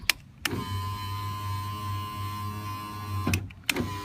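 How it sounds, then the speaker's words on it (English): A replacement electric window regulator motor in a 2002-05 Honda Civic Si door whirs steadily at close range for about three seconds, with clunks at the start and at the end as the glass stops. "Now's a perfect time to test the regulator."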